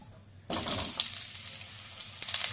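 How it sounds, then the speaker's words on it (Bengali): A sudden loud sizzle erupts as cut potatoes hit hot oil with cardamom and cinnamon, then settles into a steady crackling fry with faint clinks close by. "আলুটা ভেজে নিই, আলুটা একটু লালচে করে ভেজে নিই"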